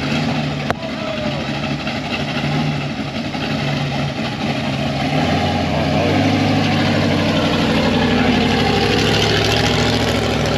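Rock crawler trail rider at an outdoor car show, its engine idling with a steady low rumble amid crowd noise, building slightly louder toward the end.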